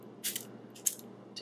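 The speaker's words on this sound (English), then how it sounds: "What I might do is go ahead and just spray with some water" Several quick, soft spritzes from a spray bottle, short hissy bursts spaced apart against a faint background hum.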